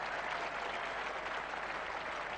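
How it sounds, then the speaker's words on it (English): A cricket crowd at an England versus Pakistan Test match in 1987 applauds England's total reaching 200: a steady, distant wash of clapping without distinct individual claps, heard on its own. "there's applause for that"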